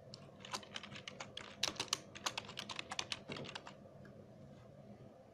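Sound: typing text on a computer keyboard

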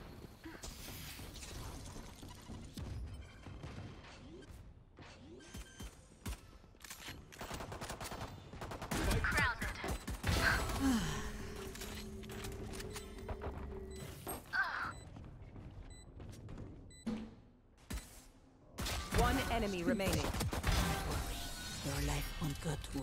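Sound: pistol gunfire in the video game Valorant

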